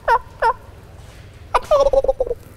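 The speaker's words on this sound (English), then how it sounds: "he gobbles" A wild turkey gobbles in a spring hunting setting: two short separate calls, then a louder rattling gobble that tumbles into a rapid descending series, fairly close and clear with no talk over it.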